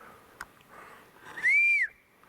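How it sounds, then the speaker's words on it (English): A person whistles a short, clear rising-and-falling note out of habit, close and fairly loud, standing alone after a few faint background sounds. "Force of habit. I'm trying not to whistle."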